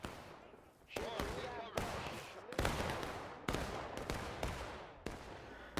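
Rapid bursts of gunfire and explosions crack out in a Smoke and Steel League video game battle, loud sharp reports repeating every second or so, with a voice talking beneath them.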